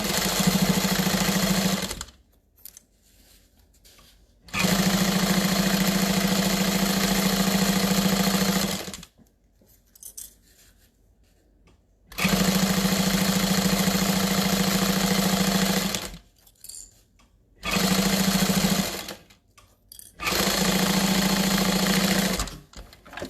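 A sewing machine stitching a fabric tote bag runs in four loud, steady bursts of several seconds each, with a constant motor whir and rapid needle hum, separated by quiet pauses.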